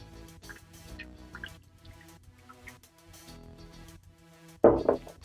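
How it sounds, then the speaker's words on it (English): Wet paper pulp poured into a cookie cutter on a flat surface, heard as soft drips and trickles followed by a louder splash of liquid near the end, close and isolated. "I'm going to pour my pulp right in there."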